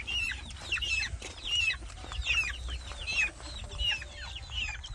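Backyard chickens cluck and chatter repeatedly in short bursts, fairly close, over a low background hum with no talking.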